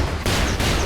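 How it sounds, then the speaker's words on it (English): An orbital cannon blown up in the mech game Brigador: a loud, dense burst of explosive blasts with two sharp onsets, filling the short moment at full volume. "might as well blow up this orbital cannon as well"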